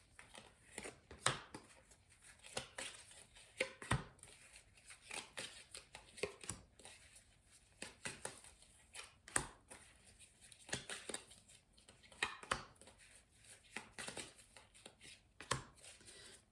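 Spark of Love tarot oracle cards being cut and handled, giving soft papery snaps and rustles in irregular bursts, close and fairly quiet, with no talking.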